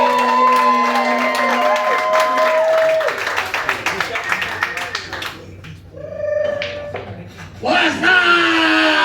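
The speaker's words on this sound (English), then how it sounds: "start clapping those hands, start clapping those hands" Audience at a comedy show at an American Legion post in Carrollton, Texas clapping and cheering as the headliner is announced, loud crowd noise mixed with an announcer's voice, music and shouts before the clapping fades.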